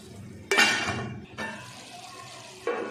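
A metal lid clanks onto a cooking pot of cauliflower and potato on a home stove, with a bright clink followed by softer rattles and a second knock, close up and fairly faint.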